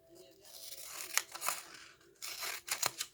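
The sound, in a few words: scissors cutting diamond painting canvas cover film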